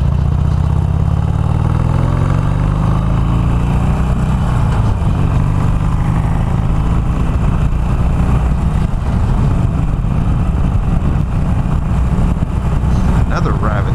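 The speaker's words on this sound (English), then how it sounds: "The interesting thing is how much louder it made the exhaust note." Harley-Davidson Iron 883 motorcycle with an air box mod and ECM flash, its loud steady exhaust note and engine drone held throughout while riding, with wind rumble and road noise underneath.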